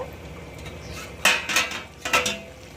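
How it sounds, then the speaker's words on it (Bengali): Metal pot lid lifted and set down while cooking a Bengali curry of prawns with Malabar spinach, giving a few sharp clinks and clatters around the middle and end of a quiet stretch. "এবার আমরা ঢাকনাটা গুছিয়ে দেখব"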